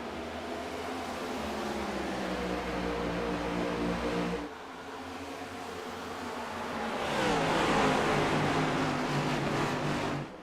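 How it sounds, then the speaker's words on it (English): Ducati racing motorcycle heading out on track at Phoenix, a steady droning engine tone that dips briefly, then rises as the bike accelerates away, with continuous background noise and no voices. "The Ducati number 11 is heading out."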